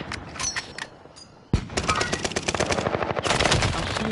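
Automatic gunfire in a PS4 shooter game comes as a few scattered shots, then sustained rapid bursts after a sharp loud report, dense and fairly close through the rest.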